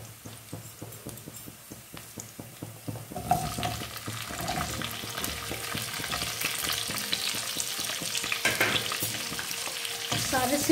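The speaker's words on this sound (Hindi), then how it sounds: "अब इसमें हम डालेंगे शिमला मिर्च।" Capsicum dropped into a pan of garlic and ginger already browned golden, frying with a steady sizzle that grows louder after a few seconds, mixed with scraping stir sounds and clatter, no talking.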